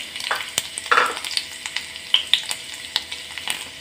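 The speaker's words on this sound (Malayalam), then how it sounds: "അതിലോട്ട് കുറച്ച് എണ്ണ ഒഴിച്ചു കൊടുക്കാം. ഇനി ഇതിലോട്ട് ഒരു ചെറിയ കഷ്ണം ഇഞ്ചിയും 2 വെളുത്തുള്ളിയും" Chopped ginger and garlic sizzling in hot oil in a pan, a close crackling fry with bursts of hiss and several sharp spoon clicks and taps scattered throughout.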